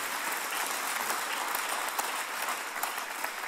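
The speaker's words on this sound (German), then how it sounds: "Vielleicht können wir ihm mal einen richtig mächtigen Applaus heute geben." Steady applause from a seminar audience at a talk on meditation, dense clapping sustained evenly throughout without pause.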